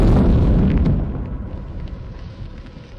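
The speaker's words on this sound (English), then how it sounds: "Such a system was found in a dense forest and was spectacularly destroyed by a HIMARS strike." A heavy HIMARS missile-strike explosion in a dense forest bursts loudly and nearby, then fades into a long, crackling rumble of debris and echo.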